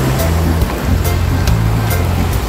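Ocean surf at White Beach in Boracay roars loud and close as a constant broadband wash, with a low engine-like hum underneath and faint voices in the background.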